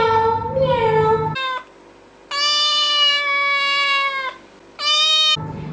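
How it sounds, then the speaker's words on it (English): Cat meowing in a few drawn-out, tonal calls, close and clear, with a brief stretch of near quiet between them and a voice-like segment at the start and end. "Cat sounds like this. Meow, meow."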